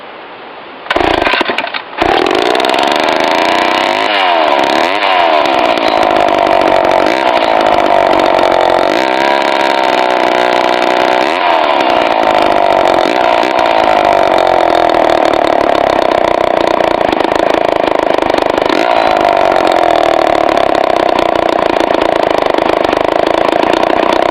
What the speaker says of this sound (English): Perfect working order. XL-12 chainsaw, circa 1974.